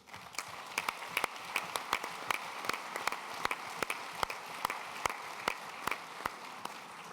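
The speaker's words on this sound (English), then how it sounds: "So now I invite you to elect Sándor Csányi with a big round of applause." UEFA Congress delegates in a large hall applaud an election by acclamation, a fairly distant, moderate wash of clapping punctuated by frequent sharp, regular individual claps.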